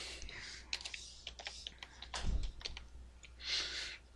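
Fingers typing code on a computer keyboard in quiet surroundings, irregular soft key clicks with short pauses, a louder thump midway and a brief hiss near the end.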